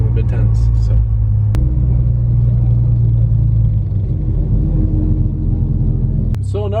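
A 2020 Toyota Supra drag car rumbles heavily at low speed as it rolls up to the line, its deep steady engine drone loud and close, with a voice talking over it.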